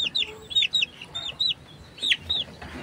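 Several Sweater gamefowl roosters, yellow-legged and including a stag, give repeated short, rising clucks and chirps in an irregular rhythm, fairly close, over a low rumbling background.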